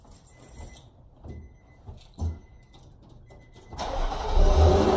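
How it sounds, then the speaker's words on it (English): A Nissan Maxima 3.5 engine is started from cold: quiet clicks and rattles first, then the starter cranks and the engine catches into a loud, steady idle close by. "I'm gonna go ahead and give you guys a cold start right now without the cold air"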